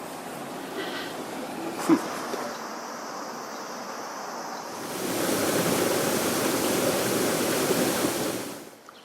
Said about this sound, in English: So here we are along the Shirakawa River, or stream, or canal.